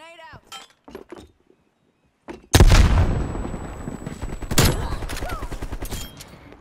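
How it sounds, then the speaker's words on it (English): A grenade blows up in a sniper video game, a sudden loud blast that rumbles and crackles as it fades over several seconds, with gunfire-like pops, after a few brief voice sounds. "Grenade out."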